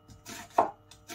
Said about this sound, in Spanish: Y empezamos a picar la cebolla